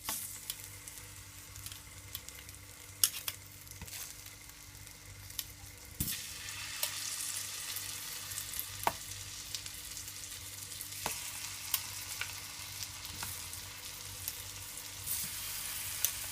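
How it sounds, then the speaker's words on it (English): Ripe plantain slices sizzle and fry steadily in melted butter in a pan, a continuous crackling hiss with occasional sharper pops, close and moderately loud, no talking. "I'm just gonna allow them to fry for at least 3 minutes on each side."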